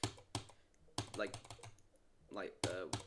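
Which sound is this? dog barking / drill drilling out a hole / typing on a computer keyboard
typing on a computer keyboard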